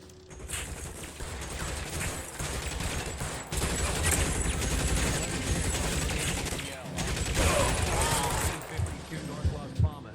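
Gunfire erupts in the crime video game LA Noire, with loud rapid shots and bursts that sound close, running almost continuously with brief breaks, while someone speaks over the shooting.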